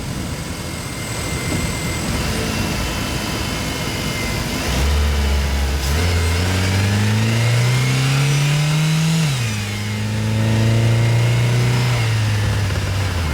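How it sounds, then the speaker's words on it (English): A car engine revs up through rising gears, each climb in pitch followed by a drop as it shifts, loud and close amid road noise. "at some point we will let our engine open up a little bit"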